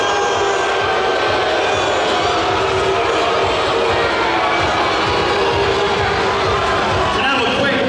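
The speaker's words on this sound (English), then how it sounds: "Give a round of applause also to Maali." A large crowd at an amateur fight event cheers and applauds loudly and continuously, a dense roar of clapping and shouting that fills the whole stretch.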